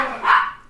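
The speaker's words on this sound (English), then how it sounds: "oh, that dog" A dog gives one short, sharp bark that rises and quickly fades, close and fairly loud, with no talking.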